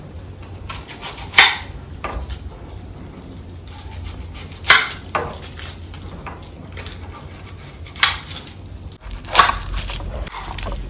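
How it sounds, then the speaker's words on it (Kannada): Peeled onions are finely chopped with a knife, with sharp chopping strikes spaced a few seconds apart over a low, steady background. "ಒಂದು 3 ಈರುಳ್ಳಿ ತಗೊಂಡಿದ್ದೀನಿ, ಅದನ್ನು ಸಿಪ್ಪೆ ಎಲ್ಲ ತೆಗೆದು ಸಣ್ಣದಾಗಿ ಕಟ್ ಮಾಡ್ಕೊಳ್ಳೋಣ."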